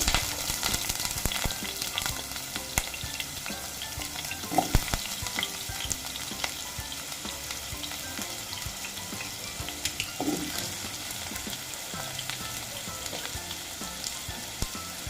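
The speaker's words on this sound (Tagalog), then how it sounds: "Unahin natin i-prito ang ating patata." Continuous sizzling and crackling of potatoes frying in hot oil, steady throughout, with occasional clinks and stirring sounds.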